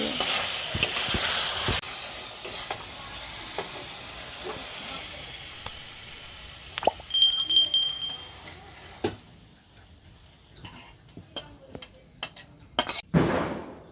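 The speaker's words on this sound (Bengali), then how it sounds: "মাংসটা আমি এরকম কষা কষায় রাখবো" Meat sautéed into kosha in a pan, loud sizzling and hissing with stirring scrapes and spoon knocks on the pan, fading to quieter sizzle later with a few sharp clanks.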